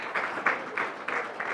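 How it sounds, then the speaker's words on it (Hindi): An audience claps to welcome a speaker at a Hindi-language talk. The short, soft applause comes in rhythmic swells, roughly every third of a second, with no voices over it. "जोरदार तालियों के साथ स्वागत किया जाए।"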